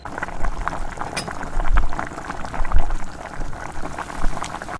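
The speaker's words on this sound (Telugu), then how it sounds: "ఇప్పుడు ఆయిల్ వేసేసుకోవాలి." Oil pours over fried amla pieces for pickle, giving a close, continuous liquid bubbling and trickling with small surges, loud and steady for a few seconds, with no voice.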